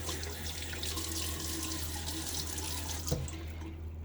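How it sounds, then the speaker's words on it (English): Sink tap water runs steadily and fairly close during a wet shave, being scooped and splashed onto the face, a constant broadband rush with a brief louder splash near the end. "let's throw a little bit of water on my face."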